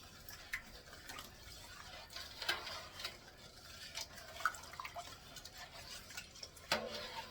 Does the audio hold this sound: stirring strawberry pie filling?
yes